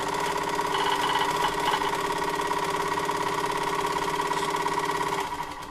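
An Akai GX-365D reel-to-reel tape deck fast-forwarding gives off a loud, steady mechanical whir with a humming drone. It runs evenly throughout, then dips slightly at the very end.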